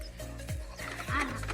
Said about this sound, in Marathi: चालली आपली बैलगाडी आता